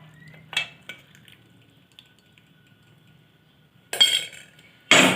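Metal strainer and cup clink as jaggery tea is strained, with a few scattered light knocks early, then two louder bursts of clattering metal and ceramic near the end, close up with no talking.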